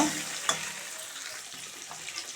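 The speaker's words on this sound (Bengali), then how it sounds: "কাশ্মীরের লঙ্কার গুঁড়ো হালকা দিয়ে দিয়েছি ভাজার জন্য" Eggs frying in oil dusted with Kashmiri chili powder give a soft, steady sizzle with a brief spatula knock near the start, quiet and close with no voices.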